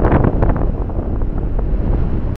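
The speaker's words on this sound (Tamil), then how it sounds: "இங்கே நிற்கவே முடியலைங்க, காற்று பார்த்திங்கன்னா ஹெவியாக அடிக்குதுங்க" Strong wind roars at a seashore where three seas meet, a loud, steady buffeting rumble battering the microphone, with the surf beneath it and no speech.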